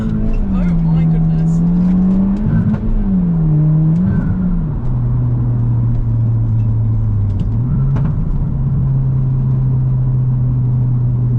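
A stage 1 remapped Audi TT pulls away under a gentle push, its engine note rising and falling through gears with a steady rumble inside the cabin, clear and close.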